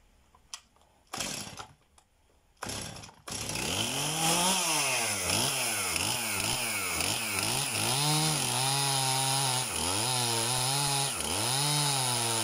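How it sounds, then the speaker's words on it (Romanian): A chainsaw starts with a few sputtering pulls, then roars steadily, its pitch rising and dipping repeatedly as it cuts firewood logs, loud and close. "Asta trebuie să-l crepăm cu drujba"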